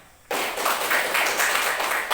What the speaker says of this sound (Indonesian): Bapak minta tolong tepuk tangan untuk semuanya